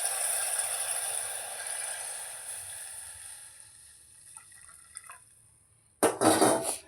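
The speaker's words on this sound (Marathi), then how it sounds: "इकडेच्या साईडला मी हे उकळलेलं पाणी घेतलंय ते पाणी आपण ह्याच्यामध्ये ॲड करूया" Boiled water goes into a Kolhapuri misal curry. A fading simmering hiss gives way to a quiet lull, then a sudden loud, splashy pour near the end.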